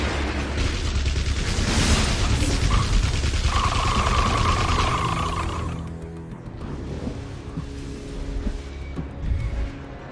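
Fire gun blasting in the video game Infamous, a dense, roaring burst of fire and impacts that fades after a few seconds into a quieter rumble with scattered hits.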